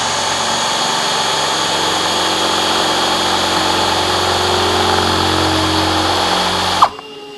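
A power drill runs in reverse through boat gel coat, steadily and loudly at a constant whine for about seven seconds, then stops abruptly with a brief clunk.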